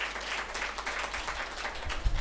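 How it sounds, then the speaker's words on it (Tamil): An audience claps at a church Vacation Bible School final-day programme, a steady patter of many hands ringing through a hall, fairly loud and sustained without a break. "நம்ம கைத்தட்டி ஜோரா ஒரு வாழ்த்தும் பாராட்டு தெரிவிக்கிறேன்"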